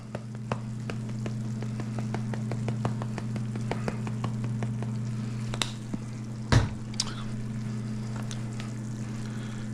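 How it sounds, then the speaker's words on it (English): Bacon frying in a pan gives a quiet, sparse crackle of scattered ticks and pops over a steady low hum, with one louder clatter partway through. "we're just gonna wait for that bacon to get to the point where it's not fully cooked, but it's starting to sort of brown and crisp up"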